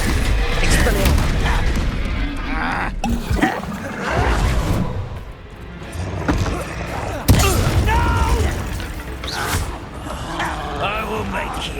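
Expelliarmus disarming spell cast in the video game Hogwarts Legacy: sharp magical bursts and whooshes ring out amid continuous booming combat noise, with a voice shouting over the loud, dense battle.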